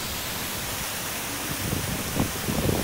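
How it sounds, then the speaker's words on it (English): Water spills steadily beside a Dublin canal-side pub like a small waterfall, a soft continuous rushing hiss that swells slightly toward the end. "Nice water sound. Like a mini waterfall."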